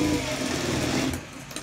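Sewing machine stitching narrow piping along the folded edge of a blouse, a steady close whirring hum that runs continuously and eases off near the end, with no talking.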